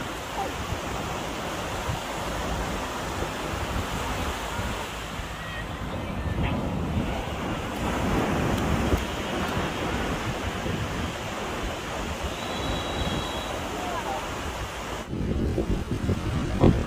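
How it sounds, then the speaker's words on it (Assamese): Sea waves washing onto the shore at Puri, a steady, broad surf roar with wind buffeting the microphone and occasional faint voices underneath. "ঢৌ আহি আছে"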